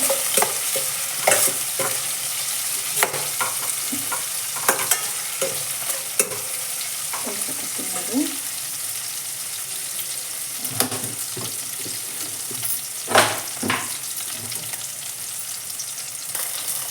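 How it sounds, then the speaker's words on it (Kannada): Cumin seeds fry in hot oil in a pan for jeera rice, giving a steady close sizzle broken by frequent scraping and clicking stirs of a spoon against the pan. "ಈಗ ಜೀರಿಗೆ ಹಾಕೀನಿ"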